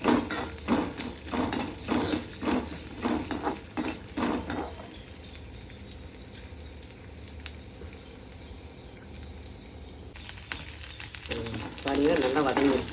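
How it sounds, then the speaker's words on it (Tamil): Grated coconut roasting in a pan for coriander chutney is stirred in quick scraping, rhythmic strokes for the first few seconds, followed by a softer, steady sizzle with occasional light scrapes; a voice speaks over parts of it. "தேங்காய் நல்லா வந்து கொஞ்சம் ஓரளவு, ரொம்பவே வறுக்க வேண்டாம், ஓரளவு வறுத்துக்கணும்."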